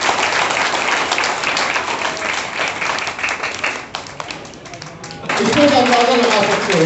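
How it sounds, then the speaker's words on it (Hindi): An audience at a welcome ceremony for doctors honoured for their lockdown service claps loudly and steadily, the applause fading briefly before a voice starts talking over the tail end. "भरपूर तालियां बजा दे।"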